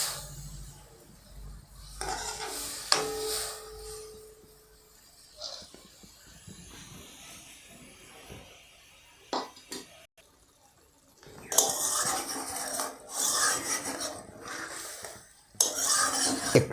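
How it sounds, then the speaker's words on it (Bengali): A spatula stirs an anchovy fish mixture with a bowl of added water in a wok, with intermittent scraping and metallic clinks, quieter stretches in between, and denser, louder stirring bursts toward the end. "একটু সুন্দরভাবে নেড়ে চেড়ে নিতে হবে যাতে করে খুব সুন্দর মিশে যায়।"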